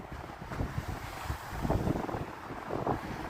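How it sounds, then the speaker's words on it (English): Lake Michigan waves break under shore ice on an icy winter beach, a low rumbling wash of irregular surges with heavy wind buffeting the microphone outdoors and no talk. "That's the water breaking against the icy shore there."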